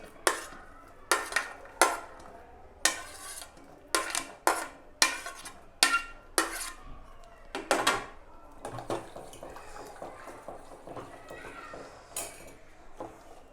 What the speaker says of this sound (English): I'm gonna add all my cut vegetables, the chopped vegetables, beans, broccoli,